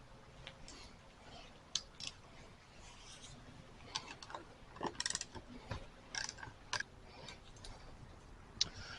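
A banjo bolt being undone on a Suzuki motorcycle during a clutch repair, with faint scattered metallic clicks and ratcheting ticks at close range, fairly quiet and irregular, with no talk.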